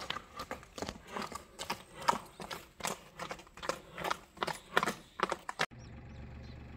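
A horse's hooves clip-clop in a quick, regular rhythm, close and fairly quiet, then stop abruptly.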